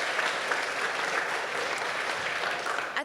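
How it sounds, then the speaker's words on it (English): Audience at a Pikeville Medical Center press conference giving another round of applause, a continuous even burst of many people clapping, close and steady from start to finish. "another round of applause"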